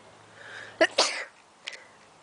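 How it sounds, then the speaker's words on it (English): A single sharp sneeze preceded by a quick intake of breath, followed by a faint breathy sound, close and fairly soft. "I'm about to sneeze."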